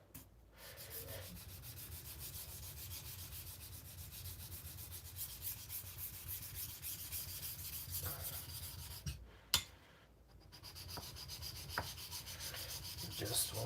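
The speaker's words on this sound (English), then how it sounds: "So I'm thinning now, basically sharpening and thinning out behind the edge, and I'm gonna put the edge on it." A 52100 steel knife blade being thinned and sharpened on an abrasive, a quiet, continuous rubbing scrape that pauses briefly near the end before resuming, no talk.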